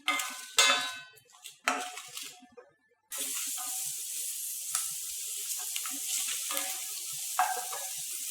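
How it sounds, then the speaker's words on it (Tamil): Onions, ginger, garlic, curry leaves and chillies for a Tamil kara chutney fry in a pan: a few clattering stirs, a brief pause, then a loud, continuous hiss of oil sizzling close by, with no talk. "இஞ்சி, பூண்டு, கொஞ்சம் கருவேப்பிலை, மிளகாய் இது எல்லாத்தையும் சேர்த்து வெங்காயம் கொஞ்சம் நேரம் வதங்கணும்"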